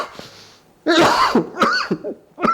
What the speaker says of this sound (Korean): 기침이 자꾸 나서.